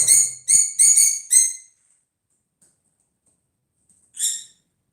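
A bird gives a quick burst of four sharp, high chirping calls in rhythm, then falls silent before one more similar call near the end, loud and close with no talking.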